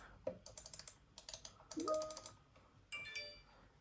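Logitech MX Master 3 mouse buttons clicked close up, a quick irregular series of faint, crisp clicks with small tonal chirps in a quiet room.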